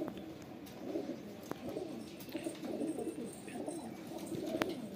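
Pigeons cooing in a loft or cage area at a pigeon seller's place in Latur, India, soft repeated low coos overlapping continuously at moderate distance with faint bird chirps and occasional clicks.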